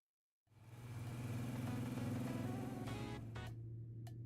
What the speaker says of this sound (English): Hanson's car glides along the empty road, its engine a quiet hum.